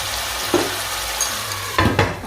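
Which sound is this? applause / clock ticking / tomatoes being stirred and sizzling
tomatoes being stirred and sizzling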